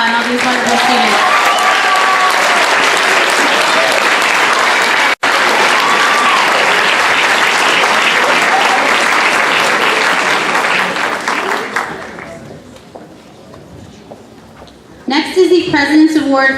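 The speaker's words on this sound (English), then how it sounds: "Now everyone can applaud all these wonderful students." A school senior awards audience applauds the honoured students with loud, dense clapping for about twelve seconds. It then fades to a quiet room before a voice begins speaking.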